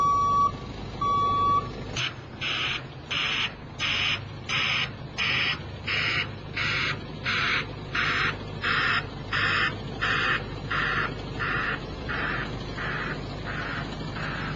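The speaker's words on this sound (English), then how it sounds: "the BBS Tech BacAlarm is easier on the ear, yet just as effective as a conventional alarm" A BBS Tek BacAlarm broadband vehicle reversing alarm repeats a steady, rhythmic series of hissing beeps, about one per half second, over a low engine rumble.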